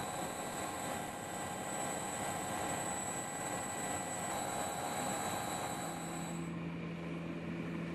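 Steady, continuous helicopter engine drone with a droning rotor hum, loud and close, holding at constant level throughout, heard in flight over flood-damaged Thatta, Pakistan.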